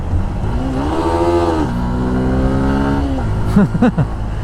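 Yamaha FZS Hybrid motorcycle engine while riding, a smooth, steady hum that rises in pitch under acceleration, drops at a gear change, climbs again, then eases off near the end.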